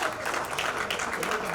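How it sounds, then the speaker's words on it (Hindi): An audience at a ceremony honouring state athletes applauds in a brief, dense burst of clapping, close and fairly loud, with no pauses. "तालियां होती रहे"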